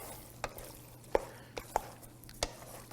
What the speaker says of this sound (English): Stir this up really good.